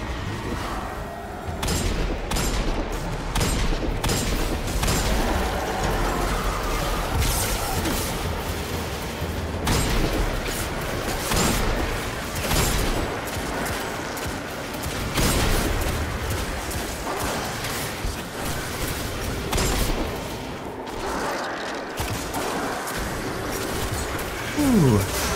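Gunfire from a weapon in the Destiny 2 shooter game, heard as a string of punchy, rapid shots and booms over a busy, loud mix of game effects and mechanical noise.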